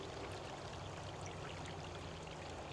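Stream water spills steadily over a log V weir into a pool at Millennium Creek, a constant, even rushing wash with no breaks.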